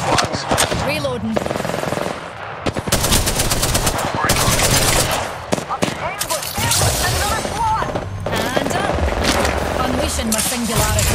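Light machine gun fire rips through an Apex Legends match in long, loud, rapid bursts with brief gaps, mixed with other game effects and a player talking over the action.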